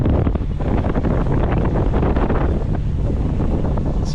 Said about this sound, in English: This is the wind I was expecting.